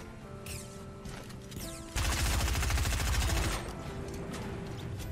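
Enemy gunfire in the Fortnite battle royale game, a burst of rapid automatic shots loudest from about two to three and a half seconds, with game sounds before and after and no talking.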